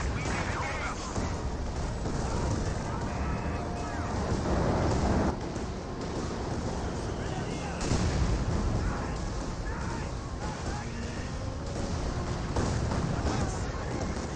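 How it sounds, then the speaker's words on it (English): Land Mattress rocket artillery fires in a Company of Heroes 2 battle, a dense, continuous rumbling barrage of launches and blasts heard under a commentator's talk. "We got now the Land Mattress firing away."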